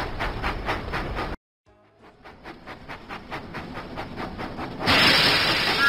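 A video game's Thomas the Tank Engine steam train puffing in a steady rhythm of chuffs, cutting out briefly, then resuming and building to a louder hiss of steam.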